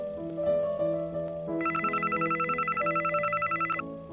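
A telephone rings with a fast, trilling electronic ring in several rapid pulses, layered over background music and heard fairly clearly.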